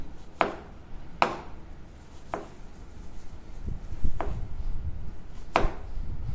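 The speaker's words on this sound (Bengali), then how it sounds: "এখন একটু লেবুর চোচা কাটবো" A knife strikes a cutting board in five sharp, separate chops spaced a second or so apart while lemon peel is cut for a chanachur bhorta. The chops sound close, with a low background rumble between them.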